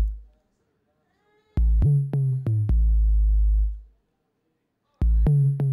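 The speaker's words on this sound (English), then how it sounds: "this is what I introduced this sub bass 808" An 808 sub bass line in a beat plays booming, sustained low notes in two loud bursts, each a short run of rhythmic hits with a faint high tick riding on top and a pause of silence between.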